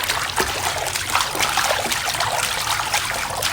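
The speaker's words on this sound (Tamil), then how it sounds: "இதில் வேற தண்ணி கம்மியாக வர்ற மாதிரி தெரியுதே" A weak shower trickles steadily, a close, continuous light patter and spatter of water with no voices over it.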